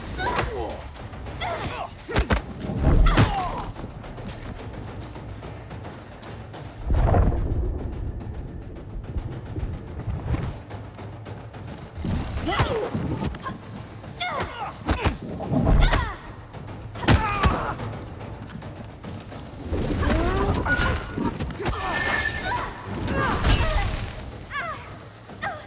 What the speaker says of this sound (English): Those exploding canisters weren't exactly subtle.